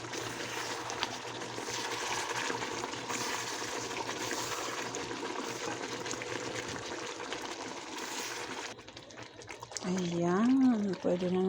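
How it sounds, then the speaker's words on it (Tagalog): Water pours into a pot of chicken cooking for kabsa, a steady trickling splash heard under talking, with music rising near the end. "Ayan, pwede na nating lagyan ng tubig."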